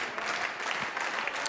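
An Australian crowd at a New Japan Pro-Wrestling event in Sydney applauds and cheers in a steady, dense wash of clapping, with no voices over it.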